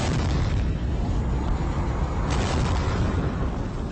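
A radio drama sound effect of rocket ships colliding and exploding gives a loud, sustained roaring blast that fills the space and swells again partway through, with no voices.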